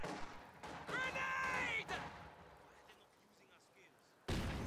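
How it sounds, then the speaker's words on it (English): A grenade explosion in a strategy video game, a muffled boom with sustained rumbling and crackle that fades out, followed by a sudden new loud burst at the end, under game sounds. "Ooh, that was a good grenade"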